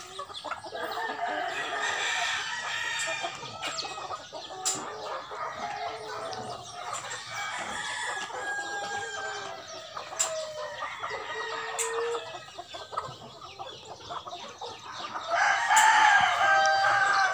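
A flock of farm chickens, mostly young cockerels fed cracked corn, clucking steadily while several roosters crow at intervals nearby, the loudest crow near the end.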